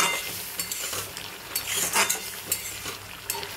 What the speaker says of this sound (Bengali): একটু গুঁড়ো গরম মশলা দিয়ে দেবো। ভালো করে নাড়িয়ে নেব।